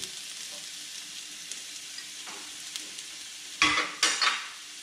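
Onions frying in oil for chicken sukka, a soft steady sizzle close by that is quiet at first, then a couple of louder bursts of stirring or frying near the end.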